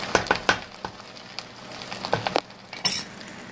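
Jollof rice cooks in a pot with a low frying sizzle beneath sharp clinks and scrapes of a spoon against metal, irregular knocks spread through a few seconds, close by and with no talk.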